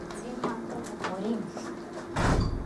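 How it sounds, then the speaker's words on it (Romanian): A door knocks open in the wind with a thump near the end, heard beneath someone talking over faint background sounds. "Se bate vântul și tot deschide ușa acolo?"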